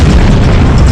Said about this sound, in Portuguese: Ouvi a primeira explosão quando estava descendo a escada